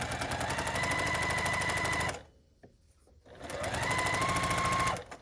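A sewing machine stitches quilt blocks together with loud, close, rapid mechanical chattering in two bursts. A short quiet pause separates them, with no talking.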